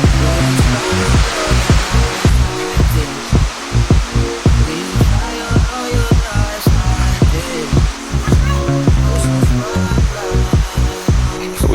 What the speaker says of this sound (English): You can hear the sound of the water splashing on the rocks.